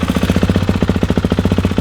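A Kawasaki KX450F dirt bike turns over on its electric starter, a loud, close, rapid rhythmic chugging of the cranking engine pulsing evenly throughout, with no voices.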